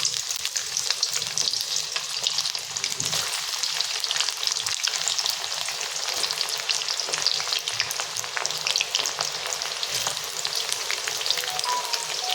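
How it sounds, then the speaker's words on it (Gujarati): Ivy gourd (tindora) pieces fry in hot oil for a wedding-style sabzi, giving a loud, steady, dense sizzle with fine crackles that runs throughout without pause, and nobody speaks. "તો હવે આપણે એમાં થોડા થોડા ટીંડોળાને એડ કરીને બધા સરસ આપણે તળી લઈશું"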